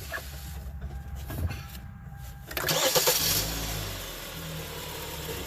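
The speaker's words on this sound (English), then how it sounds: "so Frank, just start it up for me, Frank." A car engine cranks and catches at about two and a half seconds, settling into a steady idle, following intermittent no-start trouble; quiet clicks and shuffling come before it.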